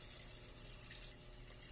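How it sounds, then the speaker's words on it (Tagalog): Water pours into a cooking pot for chicken tinola, a faint, steady splashing stream heard close up with no talk. "Pwede na nating lagyan ng tubig."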